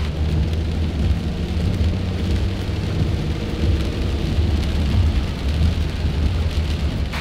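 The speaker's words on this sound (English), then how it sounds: "So it's raining." Heavy rain pours steadily in Samarkand, Uzbekistan, a loud continuous hiss of drops on surfaces with low rumbling underneath, lasting the whole stretch with no talking.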